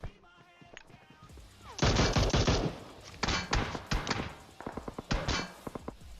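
Gunfire in PUBG Mobile: loud rapid bursts of automatic fire in a long opening burst followed by several shorter volleys and single shots, close and sharp.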